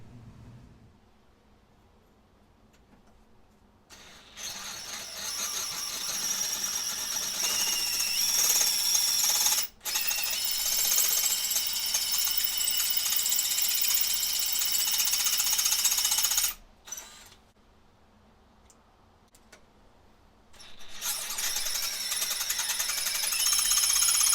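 A loud, continuous high-pitched whine of a drill boring through metal runs for long stretches, briefly stopping and restarting, with quieter gaps between passes.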